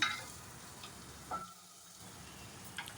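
Onions fry in a pan with salt and turmeric, giving off a soft, continuous sizzle with faint scraping as they are stirred, and the sizzle briefly dips before picking back up.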